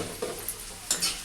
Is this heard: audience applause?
no